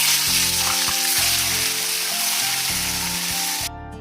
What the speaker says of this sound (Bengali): মাছ ভাজার জন্য কড়াই বসিয়ে দিয়েছি, কড়াইয়ের মধ্যে তেল দিয়ে দিচ্ছি, তেলটা গরম হয়ে গেছে।